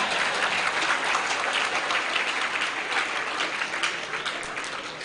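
An audience claps through a public lecture for students at an Islamic boarding school in Ploso, Kediri. The applause is dense and steady and stays loud throughout, easing only slightly near the end, with no voices over it.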